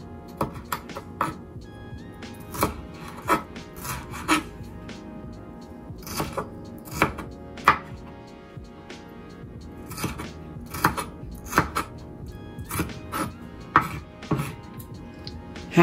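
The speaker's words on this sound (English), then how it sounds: "and I'm going to finish chopping up my green bell peppers" A knife chops green bell peppers on a cutting board in a home kitchen, with a steady series of crisp, close knocks at an uneven pace through the whole stretch and no talk.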